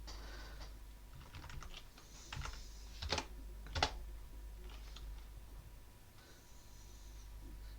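Fast, light clicking of keys on a computer keyboard, soft and close, in uneven bursts with a couple of louder taps and brief pauses, over a steady low hum.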